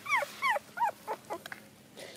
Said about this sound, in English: Baby dog, yes, baby dog.